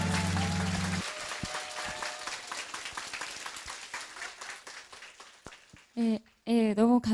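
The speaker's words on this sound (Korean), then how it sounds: "큰 박수로 맞아주십시오." An audience at a law talk applauds to welcome a lawyer to the podium, a brisk round of clapping that thins into scattered individual claps before a voice begins speaking.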